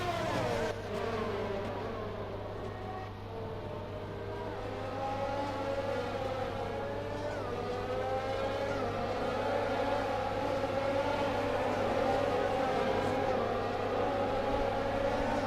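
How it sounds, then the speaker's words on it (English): Onboard an F1 car with a Mercedes engine in the F1 2020 video game at the British Grand Prix in wet weather, a high, whining engine note rises and shifts through gears continuously, loud and steady with no talk. "Listen to that Mercedes engine."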